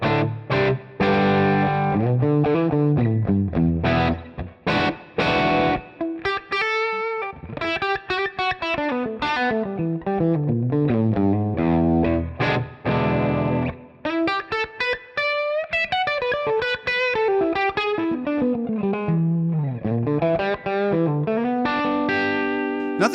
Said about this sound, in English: I'm playing my Gibson 335 guitar.